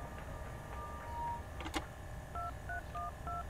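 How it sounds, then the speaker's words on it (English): Telephone keypad tones beep out a number in the video game Prison Break: The Conspiracy, a few scattered tones and then a quick run of evenly spaced beeps over a low background hum, with a brief click between. "I gotta make a phone call."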